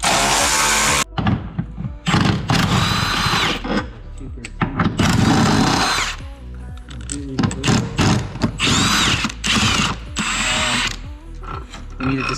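A power tool removes the strut bolts from a Mustang during an engine pull, giving loud bursts of whirring and ratcheting separated by short pauses, close up and mechanical.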